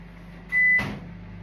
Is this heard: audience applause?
no